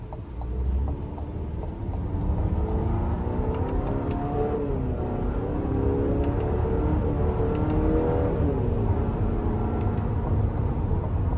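A 2025 GMC Acadia Elevation accelerates in sport and low mode, a steady engine drone and whir rising in pitch through the gears, heard from inside the cabin with no talking.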